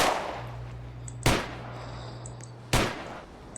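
Two sharp, loud single gunshots, about a second and a half apart, ring out in the online roleplay game Warship RP, each with a short ringing tail over a low background hum.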